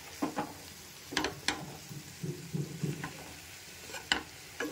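Spicy lentil and potato fry being stirred in a pan, repeated scraping and tossing strokes in an irregular rhythm over a soft sizzle, close and quiet.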